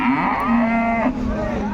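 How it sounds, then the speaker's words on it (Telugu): A Jersey cow at a cattle market gives one long, loud, close moo with a low, droning tone. "జెర్సీ ఆవు దూడ అయితే ఉన్నాయి చూసారు కదా"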